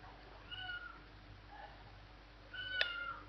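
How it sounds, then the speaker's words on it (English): A single cat meow rises faintly from the background, brief and distant against a quiet home kitchen hum while coffee is made. "You can probably hear the cat meowing in the background there."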